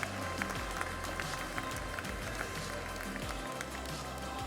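A session audience keeps up a soft, continuous wash of applause, fairly distant and low in level, with scattered individual claps standing out over a steady room rumble.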